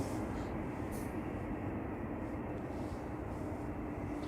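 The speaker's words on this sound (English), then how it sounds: "A320-200 GEZ-RX, flight 2181." An Airbus A320-200 airliner taking off toward Basel gives a steady, moderately distant jet rumble, broad and even throughout without voices.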